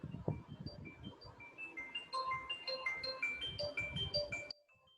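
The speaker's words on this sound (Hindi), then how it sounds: "फोन आ गया था एक्चुअली, मैं फ़ोन अटेंड कर लेता हूँ थोड़ी देर के लिए" An incoming call on a mobile phone sets off a melodic electronic ringtone of quick bright notes that grows busier and then cuts off abruptly. A voice talks quietly underneath for much of it.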